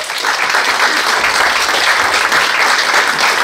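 A crowd gives loud, dense, steady applause for Wim, manager of Rainbow Belgium, called up to the stage. The clapping holds without a break the whole way through.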